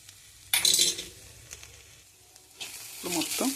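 Fried peanuts stirred into an ivy gourd masala fry in a pan, with bursts of close sizzling and scraping clinks of a utensil against the pan.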